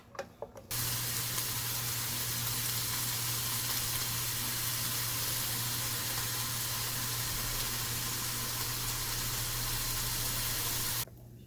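Bella mushrooms, about two cups, frying in extra butter in a pan give off a loud, steady, close sizzle that hisses continuously for roughly ten seconds with no voices.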